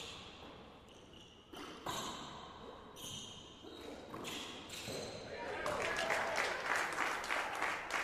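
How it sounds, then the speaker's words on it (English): A crowd applauds for hometown hero Danny Cordova at a men's quarterfinal racquet match in Atlanta, scattered claps building into fuller applause, with ball pings and distant voices. "Crowd puts their hands together for local hometown hero Danny Cordova"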